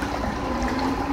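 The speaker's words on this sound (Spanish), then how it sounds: "Fíjense cómo el agua va un poquito bajando, y así los carros van aprovechando y transitando despacio" Floodwater rushes steadily through a flooded city street during heavy storm rains, a continuous broad wash of moving water with no voices.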